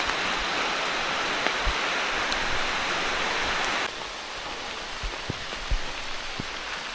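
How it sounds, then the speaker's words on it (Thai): Steady rain falls on a mountain trail, a dense hiss of drops with occasional louder nearby splats, the wash dropping slightly partway through; no voices. "ให้ดูเฉยว่าฝนตก"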